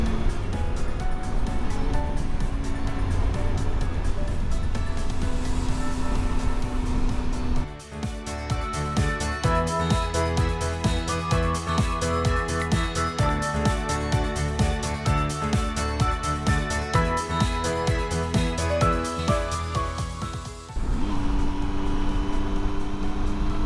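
A Triumph Tiger motorcycle rides twisty roads, its engine a steady drone with rising and falling pitch through gear changes, a brief dip near the middle, wind noise over it.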